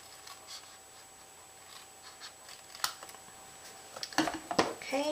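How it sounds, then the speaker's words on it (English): Quiet room tone, then a few crisp snips and paper rustles near the end, close and sharp against the hush. "And then just take my scissors and trim that off."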